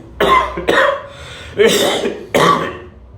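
A person coughs four times in separate harsh, throaty bursts, close and loud, with short quiet gaps between them, performed as a patient with a persistent cough.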